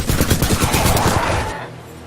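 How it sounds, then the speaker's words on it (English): An automatic shotgun fires in Titanfall 2, a rapid burst of heavy booming blasts in quick succession that cuts off after about a second and a half, loud and close. "Automatic shotguns. Pretty fun."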